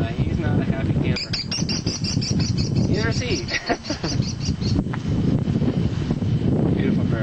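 An American kestrel calling as it is released in the Manzano Mountains, New Mexico, a rapid run of shrill repeated notes close to the microphone, with heavy wind buffeting and people talking.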